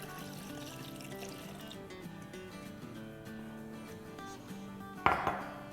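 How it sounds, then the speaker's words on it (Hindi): Two cups of milk poured into a tropical drink mixture, a soft, steady trickling pour followed by a sharp clink of a cup or spoon near the end. "और अब इसमें हम डालेंगे 2 कप दूध"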